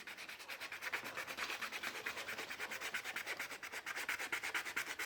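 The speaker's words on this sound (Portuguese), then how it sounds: "A gente tem uma lixinha aqui pra gente dar uma... limpada, né? Tirar essas manchas." Small piece of sandpaper rubbed back and forth over a viola to lift stains, a steady rhythmic scratchy rasping in quick regular strokes, close and fairly loud, with no voices.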